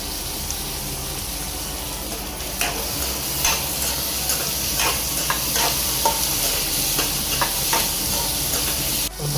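Cubed paneer frying with onions in a pan for palak paneer, a steady close sizzle and hiss with scattered sharp ticks and scrapes of stirring throughout.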